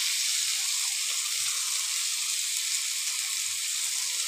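Green chillies frying in a pan with salt and turmeric, a dense, continuous high sizzle that stays loud and even from start to end, with a few soft low knocks beneath.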